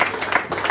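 Live comedy audience at a Sunday-night stand-up show clapping, a steady patter of many hands with faint rises and no speech.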